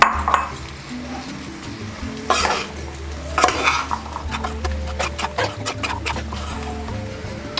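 A spoon stirs navadhaniya sundal, a nine-grain legume dish, with grated coconut in a pan, scraping and clinking against the metal in a busy irregular rhythm with a soft sizzle underneath, loud and close.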